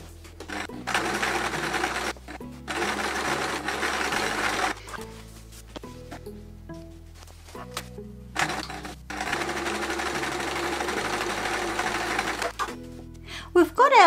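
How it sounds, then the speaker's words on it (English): A sewing machine stitches the side lengths of a green border onto a Peter Rabbit patchwork quilt, running in several long bursts of steady whirring separated by short pauses, with brief quiet talk between runs. "I'm now going to stitch on the side lengths."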